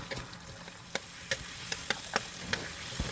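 Fried chicken wings simmer in a sweet chili sauce in a pan, giving a faint steady bubbling hiss broken by scattered soft pops and ticks, with no talking.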